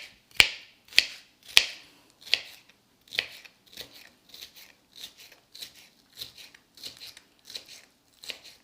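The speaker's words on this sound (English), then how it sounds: "you're just going to give it a quick dice" A knife dices crisp bell pepper on a board in a steady rhythm of about fifteen short crunchy strikes, louder at first, then lighter and quicker.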